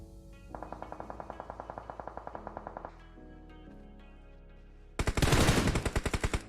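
Rapid automatic gunfire in a PUBG Mobile tournament match, first as a steady rattling burst, then after a pause a much louder, closer volley of shots, with no talk over it.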